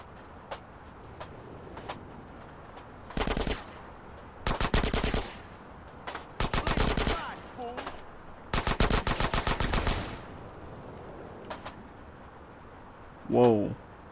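Automatic gunfire from a gun in GTA San Andreas Remastered, several loud rapid bursts separated by pauses and scattered single shots, with someone talking between volleys.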